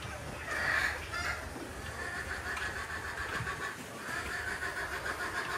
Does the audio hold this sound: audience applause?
no